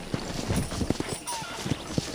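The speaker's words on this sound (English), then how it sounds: "I picked out a fine horse for you." Horse hooves clip-clopping in the Western video game Red Dead Redemption, a steady rhythmic series of hoof falls at close range with background ambience and a voice talking over it.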